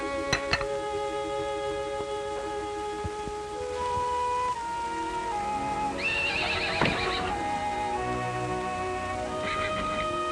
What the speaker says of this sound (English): It's your horse, standing out there as pretty as can be.